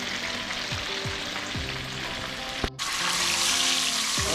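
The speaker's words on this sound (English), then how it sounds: "make sure the oil is well hot before you put your fish in" Fish sizzling steadily in hot oil in a pan, a close, even crackle with a few soft spatters and a brief clatter partway through.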